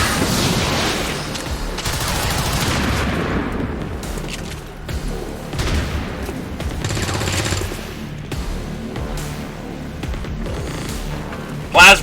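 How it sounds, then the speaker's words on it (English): A plasma grenade explodes in a battle in the video game XCOM 2, heard as a sustained, loud barrage of blasts and rapid gunfire-like crackling that ends in a sharp final burst. "Plasma grenades are not okay."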